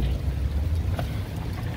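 A Cummins diesel engine on a trailer-equipped rig idles steadily with a loud, continuous low rumble throughout, heard close with no talking over it.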